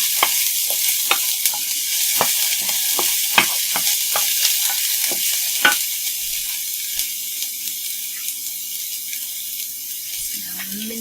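Tofu sautéing in a hot pan, a steady bright sizzle with repeated sharp scrapes and stirring clicks throughout, the frying softening slightly near the end.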